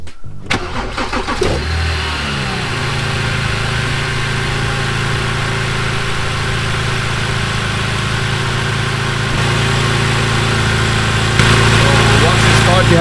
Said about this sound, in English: so now I'm gonna try to start the car.